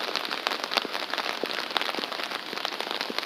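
Rain falls on surfaces during a spring cherry blossom outing in Seoul, a dense, even patter of drops with a few sharper close splashes, steady throughout and without talk.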